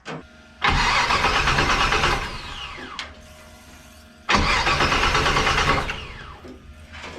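A 1964 Chevrolet Impala engine, unstarted for ten years, is cranked twice in long loud bursts that trail off, with a brief knock between attempts and near the end.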